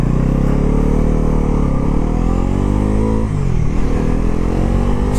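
A 2025 Bajaj Pulsar NS400Z motorcycle accelerates hard through its gears, with a loud, steady engine roar whose pitch climbs repeatedly and briefly dips at each upshift, running continuously with no talk.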